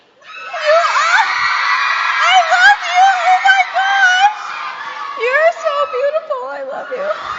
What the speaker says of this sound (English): So just get your scream out. One last time.